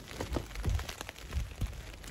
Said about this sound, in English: there's a crazy like rain, lightning, and then these big billowing like clouds of fog